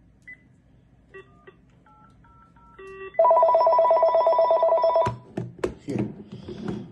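DTMF keypad tones from a thrift store telephone, a few short beeps followed by a long steady tone burst, then clicks and clatter, close and fairly loud with no talking.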